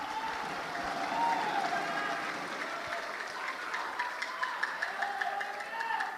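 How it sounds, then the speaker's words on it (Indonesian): Sustained applause from an audience at a Quran competition final, steady and fairly soft, with a dense wash of clapping that lasts several seconds. "Kita berikan tepuk tangan bersama."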